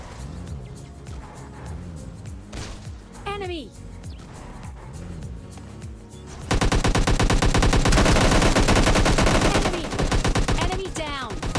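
Gunfire in a battle royale game's grenade-only challenge: scattered shots and voice commentary over the first half, then a sustained loud burst of rapid automatic fire dominating the second half, with talk continuing beneath.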